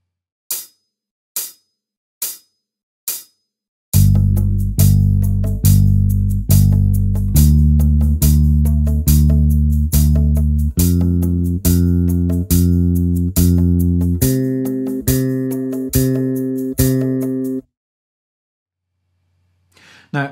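Four muted clicks, then a bass guitar exercise crossing strings with condensed fingering, steady evenly spaced plucked notes stepping up in pitch, close and alone before stopping.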